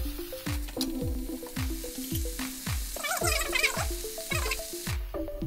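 Karpooravalli leaves and tomatoes sautéed in a pan, a soft sizzle under a regular series of close stirring knocks and scrapes, with a brief wetter bubbling patch midway.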